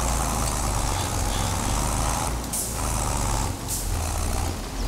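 A farm vehicle reverses in Farming Simulator 22 during a wheat harvest season, its steady engine drone loud and continuous, with brief dips in level and a hint of air brake hiss.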